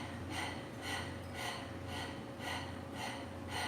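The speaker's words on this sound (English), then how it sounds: "So let's start with just doing a panting puppy breath." Panting puppy breath, a Breath of Fire breathing exercise: rapid, evenly spaced breaths pulse about every half second, soft and close, with no talking.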